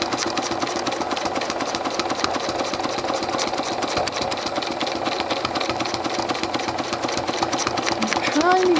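A sewing machine stitches rapidly and continuously while free motion quilting appliqued leaves, a close, steady mechanical whir with a fast needle rhythm and talk over it.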